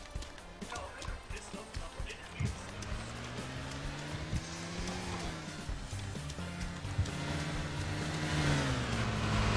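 A car engine in the DayZ video game drones and revs as the vehicle drives, stops and reverses back toward the player, with a steady motor hum rising in pitch and loudness near the end amid scattered game noises.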